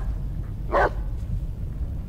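A single short, sharp dog bark in the horror video game Blair Witch, heard fairly close over a low rumbling ambient background, with no talk around it.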